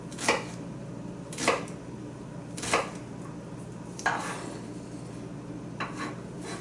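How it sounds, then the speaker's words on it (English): A kitchen knife chops onions for a spaghetti dish, with five sharp, separate strikes on a cutting board spaced about a second apart over a quiet background. "now we're just going to start chopping"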